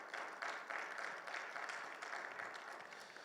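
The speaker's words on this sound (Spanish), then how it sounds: "Den un fuerte aplauso al Señor" A church congregation claps together in a sustained round of applause, many hands beating in a loose steady rhythm that stays fairly even throughout before easing slightly at the end.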